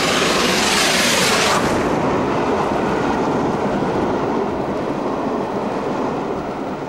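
A steam train hauled by an LNER A4 locomotive passes close by with a loud, rushing roar and rhythmic clatter of wheels, a bright hiss fading after the first couple of seconds.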